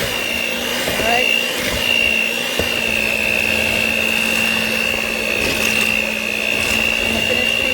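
Electric hand mixer creaming butter and sugar for an old-fashioned Guyanese sponge cake, a steady motor whine held throughout with a few light knocks of beaters against the bowl.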